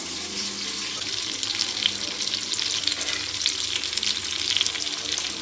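Whole cashew nuts fry lightly in hot oil for chicken biryani, making a close, continuous bubbling sizzle with a watery crackle that swells and eases; no one speaks.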